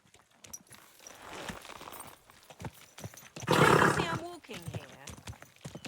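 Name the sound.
horse riding hooves, from video game Kingdom Come Deliverance 2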